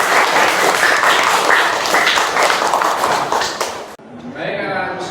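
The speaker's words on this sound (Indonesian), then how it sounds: "Tepuk tangan semuanya." Students in a classroom applaud together in a dense burst of clapping that fades out near the end, followed by a brief quieter moment with a voice.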